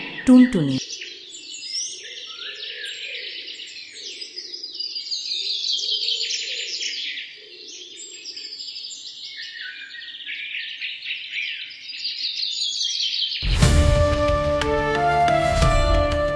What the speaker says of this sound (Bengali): বাতাসে পাখির ডাক